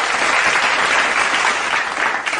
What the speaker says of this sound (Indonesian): Boleh beri tepuk tangan untuk Dr. Rini?